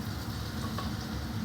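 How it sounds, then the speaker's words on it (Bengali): Marinated chicken for chilli chicken frying in oil in a kadai: a soft, steady, low-level sizzle throughout a short moment, with no voices. "চলো ভাজাটা স্টার্ট করে দিই।"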